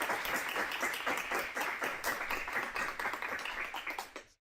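An audience applauds panelists at an academic conference, many hands clapping in a dense, fairly steady round that tapers off and stops.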